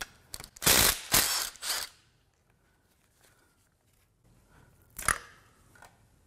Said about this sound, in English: let's get some of these bolts out on this side